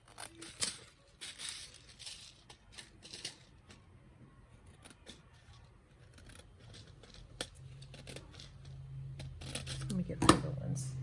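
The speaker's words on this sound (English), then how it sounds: "I'm just gonna get scissors and trim all this stuff on the outside" Scissors snip and crinkle through paper in short bursts, with soft handling noises and a louder cut near the end.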